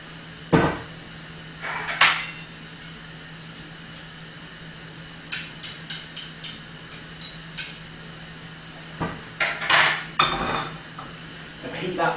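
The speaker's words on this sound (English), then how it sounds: "So then into a frying pan." Metal clanks and scrapes as a frying pan is handled on a kitchen stove before coconut oil goes in, giving irregular sharp knocks and clatters up close, some grouped in quick bursts.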